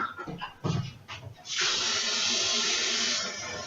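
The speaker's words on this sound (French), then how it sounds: "On va directement commencer par mettre de l'eau à chauffer." Tap water runs into a large pan or saucepan for heating, a steady, close hissing rush that starts after a few clatters and knocks of handling and keeps going to the end.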